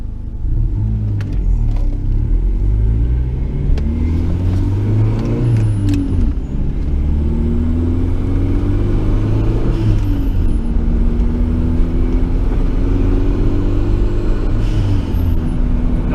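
A turbocharged Honda CR-V wagon pulls out and accelerates, its engine droning low and rising in pitch through several gear pulls with turbo whine, heard from inside and loud throughout.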